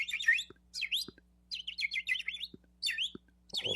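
Birds chirp in quick, bright bursts of twittering calls, repeated every half second or so against an otherwise quiet background, with no voices present.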